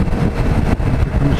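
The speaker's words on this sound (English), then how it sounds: "Power on, just a bit of throttle there just to bring her over." A Yamaha MT07 motorcycle engine pulls under a small throttle opening while leaning into a turn, a loud close continuous rumble with a slight dip and swell partway through.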